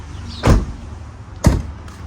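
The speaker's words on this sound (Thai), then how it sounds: "พวกนี้จะปิดประตูแรงหน่อยนะครับนาวาร่า" A Nissan Navara pickup door is shut firmly twice, two loud solid thuds about a second apart, close by over low outdoor background noise.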